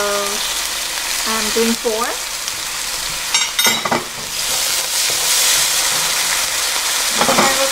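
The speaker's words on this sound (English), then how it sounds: "Next I'm going to add in my soy sauce." Clams sizzle loudly in a hot pan as soy sauce is poured in, with a hiss of steam, a few clanks from the pan, and a short spoken remark partway through.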